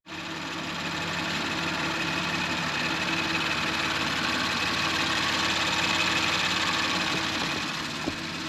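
A repaired Audi RS5 2.9 V6 runs steadily at idle in a workshop, a constant loud mechanical drone with a fine rattling texture and no break across the whole stretch.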